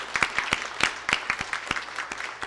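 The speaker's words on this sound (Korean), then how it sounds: "축하의 박수 보내주세요." Scattered applause in a church service, a modest congregation clapping unevenly in distinct, overlapping claps that carry through the room for a couple of seconds.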